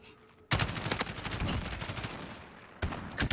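Sustained bursts of video game gunfire during a pick kill at a bomb site, starting abruptly after a quiet lead-in, holding loud and dense, then resuming in sharper shots near the end.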